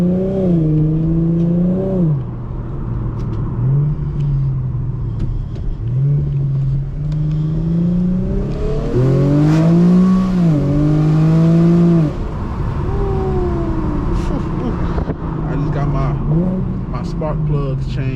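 An Infiniti G37 engine revs hard while driving at sunset, with fresh spark plugs; loud rising and falling pitch sweeps repeat through several rev climbs and gear shifts, close and dominant throughout.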